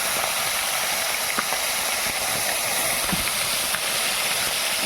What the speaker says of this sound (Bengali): কড়াইয়ের তেল গরম হয়ে গেছে, এবার আমি মাছের মাথাগুলো আস্তে আস্তে করে দিয়ে দিই